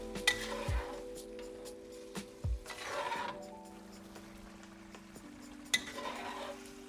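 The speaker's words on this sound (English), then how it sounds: "Let's get these guys stirred in." A pan of Sichuan dish with tofu is stirred gently, with soft scraping and clinking of a utensil against the pan over a low hum, occasional louder knocks standing out.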